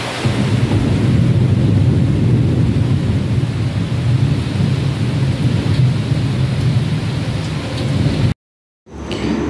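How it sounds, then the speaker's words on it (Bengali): Heavy rain pours down with rumbling thunder, a loud, continuous low roar and hiss that holds steady before a brief dropout to silence near the end. "এত জোরে বৃষ্টি হচ্ছে, সাথে বিদ্যুৎও চমকাচ্ছে।"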